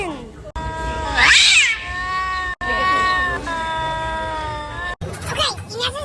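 On the Mickey's Runaway Railway theme park ride, a loud cat yowls and caterwauls in long, wavering wails, broken by short gaps, during a staged cat-versus-dog fight.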